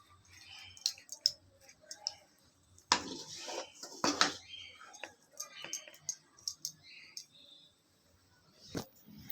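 Cooked vegetable upma is spooned from a pan into a serving bowl, giving soft, scattered scraping and clinking of utensil on metal and crockery, faint and intermittent, with quiet talk in between.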